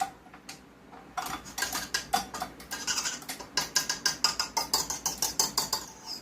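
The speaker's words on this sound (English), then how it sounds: "I'm gonna clean up the whisk a little bit" A whisk being cleaned, with a fast series of close metallic taps and clicks that speeds up into a steady rhythmic rattle, alone and moderately quiet.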